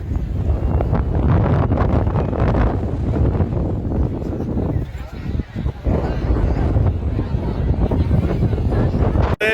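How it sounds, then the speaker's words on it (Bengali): Strong wind buffeting the microphone at an army artillery training ground, loud continuous roaring gusts with rustling, and a person talking over it. "এত বাতাস দাঁড়ানো যাচ্ছে না।"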